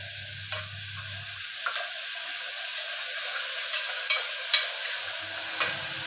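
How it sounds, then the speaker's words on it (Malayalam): Onions sautéing in a pan for mutton masala curry, a soft, continuous sizzle with a few light stirring scrapes and clicks spaced through it, fairly close and steady. "സവാളയുടെ നിറം മാറി വരുന്നത് വരെ വഴറ്റിക്കൊണ്ടിരിക്കുക."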